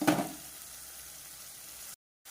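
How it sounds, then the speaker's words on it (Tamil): Ingredients sauté in a pan for a mushroom gravy, opening with a brief stirring clatter, then a soft continuous sizzle that cuts off abruptly near the end. "அப்படி நல்லா வதங்கட்டும்."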